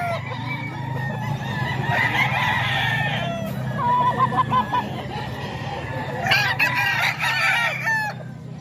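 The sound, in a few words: rooster crowing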